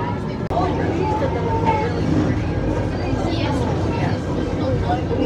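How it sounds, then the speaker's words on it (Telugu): A train sits halted at a steep hillside station in Rio de Janeiro, Brazil, giving off a steady, loud mechanical rumble and hum while people talk nearby. "ఇగో ట్రైన్ ఇక్కడ ఆగింది, మొత్తం స్లోప్."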